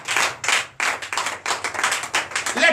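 A church congregation claps in acclamation, a burst of many hands beating in quick uneven bursts, loud and close, with no talk over it.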